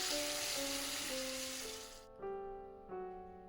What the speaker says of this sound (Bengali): দেখতে পাচ্ছেন কনস্ট্যান্ট আমি নাড়তেছিলাম, বেশ নাড়তে হয় এটা